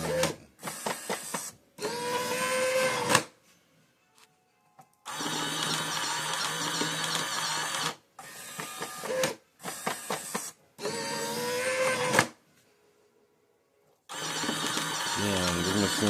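A Powermatic 5 Plus electric cigarette rolling machine runs in repeated bursts of mechanical whirring and clicking, close by and fairly loud, separated by short quiet gaps.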